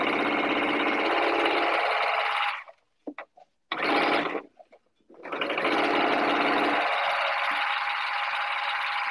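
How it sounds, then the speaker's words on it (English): A sewing machine stitches quilt pieces in fast continuous whirring runs, with a brief pause and a short burst in the middle before the stitching resumes and carries on, loud and close with no talk. "So I'm just gonna start sewing."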